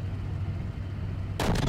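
A Leopard 2A4 tank cannon fires in a video game, a single loud, sudden boom after a low, steady engine rumble.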